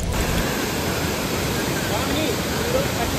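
Hooker Falls in North Carolina roars as a steady, dense rush of falling water and drifting spray, heard close and loud, unchanging from start to end.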